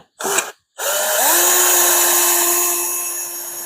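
A power tool cuts into an aluminum Mopar bellhousing during a conversion job: a brief burst, a pause, then a sustained loud whine with rising pitch that holds steady and slowly fades, with no talk.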